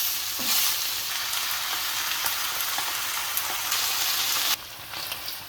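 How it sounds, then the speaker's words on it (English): Steak pie filling with onions frying in a pan, a steady dense sizzle with a few crackles and light stirring, loud and close throughout, easing slightly near the end. "so just fry it a little bit, probably just for 10 minutes."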